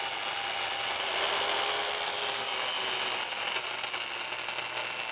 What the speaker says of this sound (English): Secure the guide to the top, start the saw, and make the cut.